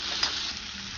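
A spoonful of oil sizzles with cumin and chopped onion for a vaal papdi bhaji, giving a steady, close frying hiss with a slight crackle near the start and no voices.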